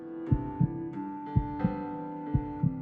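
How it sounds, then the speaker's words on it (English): A heartbeat sound effect from the video game Goldenheart: paired low thumps repeating at a steady rhythm, loud and close, over a constant droning hum. "That heart beating noise is never gonna get old"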